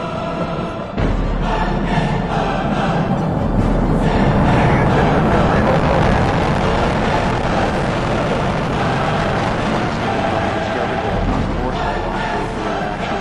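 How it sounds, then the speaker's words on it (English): Space Shuttle Discovery's rocket boosters ignite and lift off into the night sky, a loud, continuous broadband roar that holds steady throughout with a distant crowd murmur beneath it. "booster ignition, and liftoff of the Space Shuttle Discovery, lighting up the nighttime sky"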